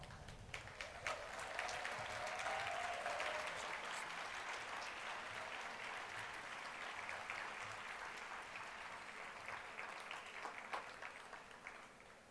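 Sustained applause from a large audience at a law school commencement, steady clapping that swells quickly and holds for about twelve seconds before easing slightly.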